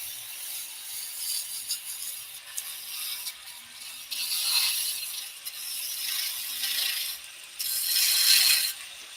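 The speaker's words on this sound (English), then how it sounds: "The skew chisel does a planing cut." A skew chisel takes a planing cut on spindle wood turning on a lathe, giving a steady, close hiss and scrape with surges of louder cutting near the middle and end, and no talking.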